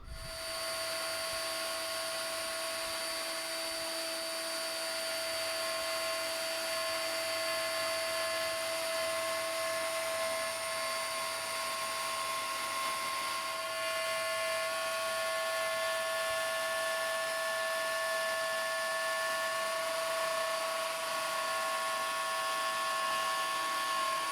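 A router cuts wooden head and footboard mounts for a hospital bed, its motor holding a steady, high, whining drone close by throughout with no pauses.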